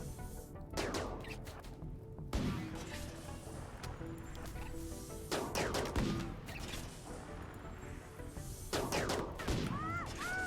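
Gunfire in the video game Rimworld, several sharp shots spaced a few seconds apart, each a quick crack over a steady, busy background din.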